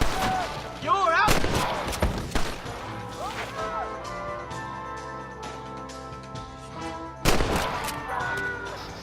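Gunfire in the Western video game Red Dead Redemption 2: sharp, loud shots burst out near the start and again near the end, with a musical score and other game sounds running underneath.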